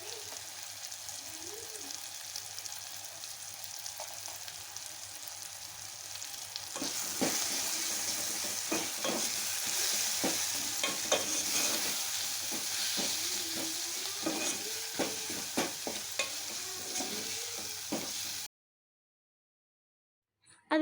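Ginger garlic paste and turmeric fry in a pan for a village-style masala chicken curry, giving a steady close sizzle with scraping stir strokes that stops abruptly near the end.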